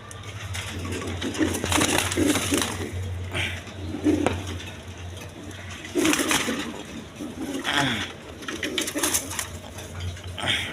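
Pigeons cooing at a pigeon market, repeated low throaty coos close by amid general crowd bustle and rustling, with a brief murmur of voices.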